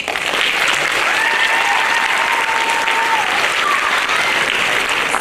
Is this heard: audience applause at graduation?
yes